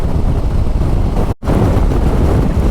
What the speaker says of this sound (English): Hopefully we can get on away from this wind